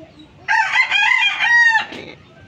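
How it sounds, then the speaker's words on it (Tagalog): A rooster crows loudly and close by, one long drawn-out call, followed by brief clucking from chickens kept beside racing pigeons. "Pasensya na't maingay kasi may mga manok."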